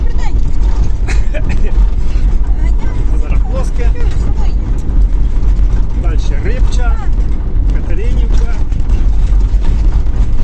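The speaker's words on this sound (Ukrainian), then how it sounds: "тут ями і дуже тарабанить машина" A car driving over a potholed rural road rattles and thumps, with a loud steady engine and road rumble throughout while someone talks over it.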